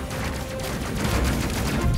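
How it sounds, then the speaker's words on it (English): An explosive cannon pounds a ship's hull in the space game Space Crew, a loud, dense barrage of blasts and booms throughout. "Oh, he's getting the hull with the explosive cannon."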